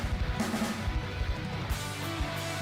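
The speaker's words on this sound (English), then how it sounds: "A well-recorded drum kit usually sounds like this." A drum kit plays a steady groove, with punchy kick and snare hits and cymbals ringing over the top.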